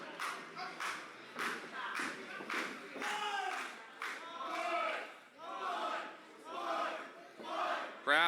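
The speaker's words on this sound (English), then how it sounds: "Crowd chanting along with Ichiban" Wrestling match crowd chanting in rhythm along with a wrestler, a steady series of loud unison shouts roughly every half second, with arena ambience between them.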